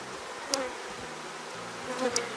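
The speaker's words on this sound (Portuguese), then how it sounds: "Então, tá tudo certo com o enxame." Honeybees at an opened hive drone in a steady, soft, close buzz during a colony inspection, with a couple of brief louder passes as bees fly near.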